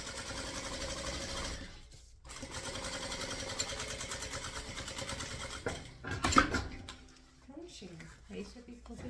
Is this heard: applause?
no